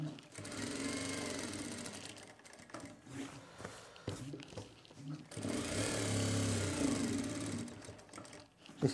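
A sewing machine stitches a designer pen pocket in two long, loud, continuous whirring runs separated by a brief pause with softer handling noises.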